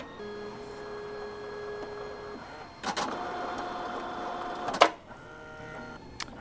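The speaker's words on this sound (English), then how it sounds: "We're going to print a test card from our 6600 to give you an idea of how those cards look coming out of the printer." A Fargo HDP6600 card printer runs while printing a test card. It gives a low steady mechanical whir with a louder burst of motor and feed noise midway, then a sharp clack near the end and a faint click after.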